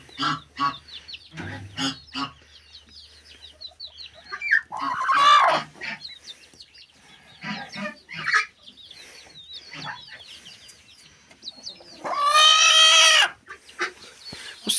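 Broody hens cluck in soft, scattered bursts, broken by two loud, harsh squawking outbursts close by, one near the middle and a longer one toward the end.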